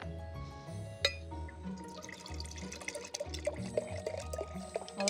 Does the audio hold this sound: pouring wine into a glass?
yes